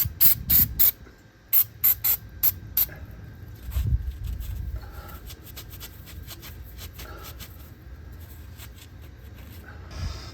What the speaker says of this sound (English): I'll spray it again on the top.